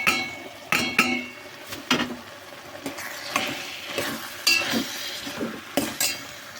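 A spoon scrapes and knocks around a pan of cabbage tomato curry in irregular strokes, with faint sizzling underneath and no talking.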